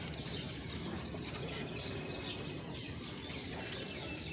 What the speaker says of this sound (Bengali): ভিতরে দুইটা নর কবুতর আছে